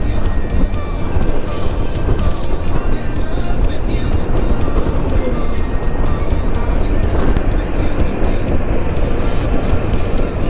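A motorcycle rides along a road in the Philippines, its engine droning loudly and without a break beneath heavy wind rush that fills the whole stretch.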